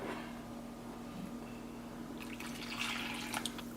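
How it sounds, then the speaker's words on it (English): Water trickles and splashes faintly into a pot of thick abunubunu leafy green soup near a low steady hum, building into brief pouring splashes toward the end. "I'm going to add a bit more water because as you can see it's still a little bit thick"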